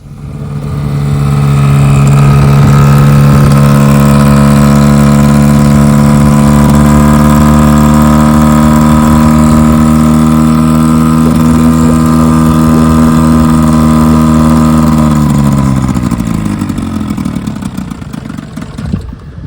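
A 1957 Johnson 5.5 HP outboard motor running in a test barrel, loud and close with a steady buzzing drone for about fifteen seconds that then sags in pitch and dies away.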